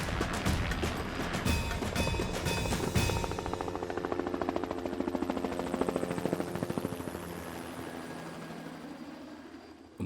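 Helicopter flying over the mountains of Reunion Island, its rotor chop loud and rapid at first, then thinning and fading into the distance over ten seconds, no voices.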